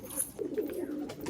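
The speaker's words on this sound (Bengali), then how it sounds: "অসংখ্য পায়রা, ম্যাক্সিমাম মালবাহী পায়রা" Malwai pigeons held for sale near Dhamua station coo in low, rolling bursts, several overlapping calls close by, with faint high chirps above and no talking.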